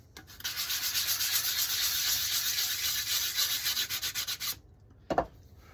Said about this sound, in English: And you can hit it with a quick sanding block.